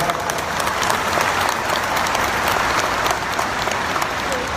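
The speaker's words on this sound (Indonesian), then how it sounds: "Tepuk tangan yang meriah buat Petren TV." Audience applause at a televised event, a steady dense roar of clapping filling the whole stretch, loud and close with no pauses.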